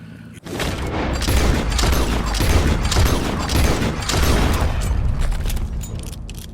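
Red Dead Redemption 2 gunfire: a loud, dense burst of shots and booming reports rolling on for several seconds, close and heavy, with no talking.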